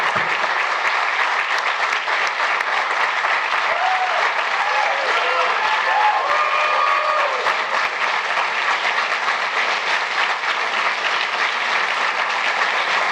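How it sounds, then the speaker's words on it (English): Audience at a White House event applauds President Joe Biden, sustained loud clapping from a crowd that holds steady throughout with a few brief whistles or cheers mixed in. "Stop clapping immediately."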